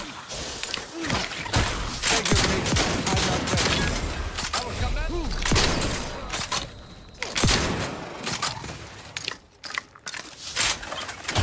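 Gunfire in the video game The Outer Worlds 2, with dense, rapid bursts of shots and reload clatter running almost continuously over a busy game soundtrack, while someone talks over the action.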